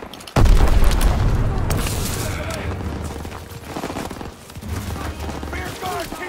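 Grenade blast and gunfire in the World War II shooter Call of Duty: WWII: a sudden heavy boom near the start, then sustained rattling fire and rumbling battle noise, with voices shouting over the combat.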